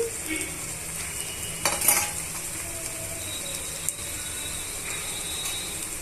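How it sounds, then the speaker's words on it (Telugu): Brinjal pieces and thinly chopped carrot pieces tumbling into a sizzling pan, a brief rattling clatter near the start, then steady frying hiss with a couple of sharp utensil clicks, no voices. "వంకాయ ముక్కల్ని సన్నగా తరిగిన క్యారెట్ ముక్కల్ని కూడా యాడ్ చేసుకోవాలి"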